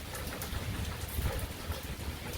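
Steady heavy rain from a big thunderstorm pours down close by, a dense continuous hiss with low rumbling beneath, heard from under a small roof shelter.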